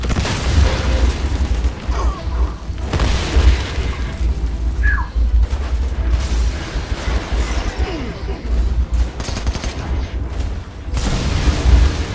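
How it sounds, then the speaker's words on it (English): Grenade blasts from the Army of Two: The Devil's Cartel video game, with booming bursts that rise out of dense, continuous battle noise and low rumble across the whole stretch. "Grenade! Fire in the hole!"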